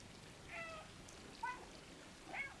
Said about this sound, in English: Pressing B meows.